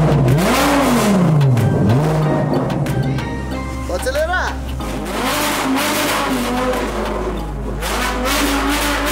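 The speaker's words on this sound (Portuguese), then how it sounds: "Vou dar uma acelerada." A car engine revs up under the accelerator, its pitch rising and falling in sweeping waves, close and loud, while several people talk and exclaim over it throughout.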